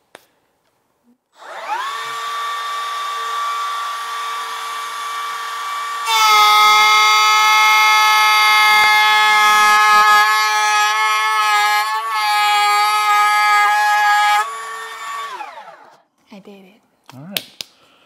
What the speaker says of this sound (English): First time using a router table.